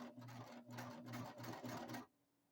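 A sewing machine stitches a thick bucket hat seam in a close, rapid mechanical whir, pulsing in short bursts for about two seconds before stopping abruptly.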